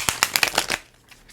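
Tarot cards shuffled by hand in quick riffling bursts, about six crisp rustling strokes close up, then a fainter soft shuffle as the motion tails off.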